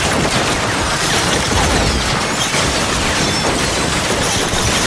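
A dense, continuous barrage of rapid gunfire in a film crackles loudly throughout, then stops abruptly at the end.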